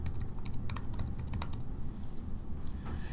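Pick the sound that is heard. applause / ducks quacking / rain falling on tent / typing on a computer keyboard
typing on a computer keyboard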